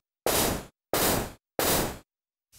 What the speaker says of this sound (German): Ich möchte dieses Rauschen wirklich nur am Anfang unserer Snare Drum als Anschlaggeräusch verwenden